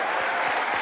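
A studio audience at a comedy show claps in a loud, dense burst of applause, alone and close.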